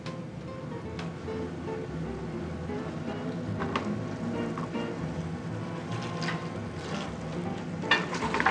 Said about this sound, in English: The tomatoes are fried very quickly, less than a minute and a half.